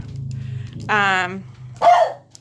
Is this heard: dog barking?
yes